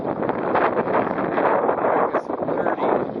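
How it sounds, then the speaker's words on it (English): Strong wind on the water while kayak sailing roars and buffets against the microphone in a loud, continuous rush, with gusty swells and dips throughout. "It is extremely windy."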